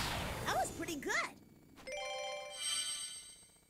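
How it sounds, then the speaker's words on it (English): A mobile phone ringtone chimes out in a steady run of bright electronic tones, following a brief burst of voice at the start of the clip. "There goes my phone."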